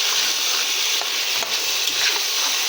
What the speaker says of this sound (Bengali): ভেজে রাখা আলুটা দিয়ে নেব। দিয়ে এটাকে কষে নেব, আলুটাকে